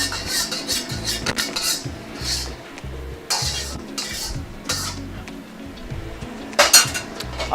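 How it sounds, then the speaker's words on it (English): Metal utensils scrape and clink against a wok as noodles for Thai drunken noodles (pad kee mao) are lifted out, a run of irregular close clatters and stirring rasps with faint sizzling underneath. "I'm pulling this out of our wok"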